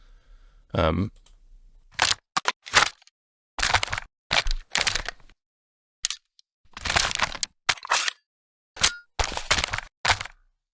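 A redesigned AR-15 reload and inspection sequence from Call of Duty plays as sharp mechanical clicks, clacks and rattling bursts. They are spaced by short silent gaps and sound close and crisp.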